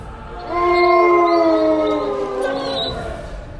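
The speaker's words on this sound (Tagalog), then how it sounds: "may narinig siyang isang atungal sa mismong tapat lang ng kanyang kinatatayuan sa itaas ng isang mataas na puno." A creature howls from high in a tall tree in an aswang horror story, one long, loud, wavering wolf-like cry that rises, then sustains and fades over several seconds with no other sound.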